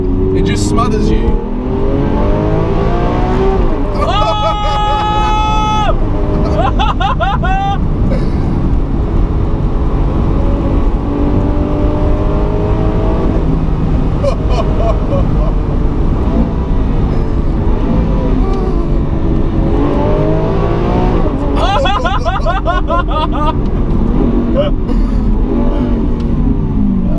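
Lamborghini Aventador SV engine roaring and revving hard in bursts of rising and falling pitch, loud and close from inside the car, with people talking excitedly over it throughout.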